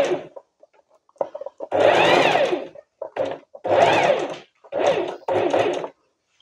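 A sewing machine stitches curtain fabric in short bursts of loud, close whirring, starting and stopping about five times, with faint clicks in the pauses.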